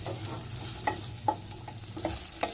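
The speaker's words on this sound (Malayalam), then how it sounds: "നേരത്തെ കോളിഫ്ലവർ വേവിച്ച് വെച്ചിട്ടില്ലേ അത് നമുക്ക് മുഴുവനായിട്ട് ഇതിൽ ഇട്ട് കൊടുക്കാം എന്നിട്ടൊന്ന് റോസ്റ്റ് ചെയ്തെടുക്കാം" Pre-cooked cauliflower sizzles gently as it roasts in a pan while a spoon stirs it, giving a steady frying hiss broken by a few soft scraping knocks, close up and without talk.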